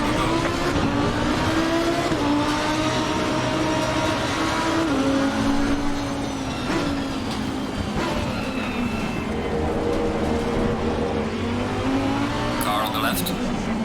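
A Porsche GT race car, car number 37, accelerates hard off the start in Assetto Corsa Competizione at Misano, its engine note climbing through upshifts amid other cars, with tyre noise and a commentator talking over the continuous roar.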